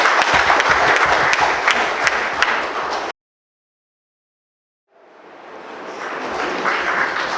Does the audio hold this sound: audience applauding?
yes